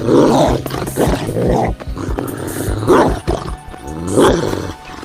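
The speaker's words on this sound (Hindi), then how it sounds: "अरे ये कुत्ता मेरे पीछे कैसे पड़ गया?" An angry dog growls and snarls while chasing a man, a story sound effect. Loud, rough growling comes in about three surging bursts with short breaks between, and no one speaks.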